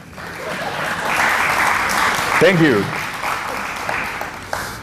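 An audience claps steadily for several seconds at a talk on customizing Pharo. The applause swells and then fades, and a speaker briefly thanks the crowd over it.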